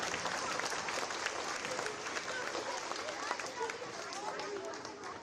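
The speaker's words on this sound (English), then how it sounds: "let's give all of these guys and all of you that helped a big round of applause" Students and staff at an elementary school Veterans Day assembly applaud in a broad, sustained round, with crowd chatter and voices mixed into the clapping.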